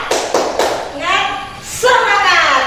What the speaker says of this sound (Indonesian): kita lakukan bersama-sama tepuk semangat ya